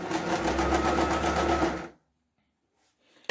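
A sewing machine stitches the sleeve of a blouse in one steady, close run of rapid mechanical whirring that lasts almost two seconds, then stops abruptly, leaving silence until a faint clunk near the end.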